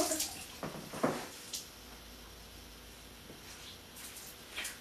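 Cold water runs from a bathroom tap into the sink, a faint, steady hiss with a few scattered splashes and drips close by.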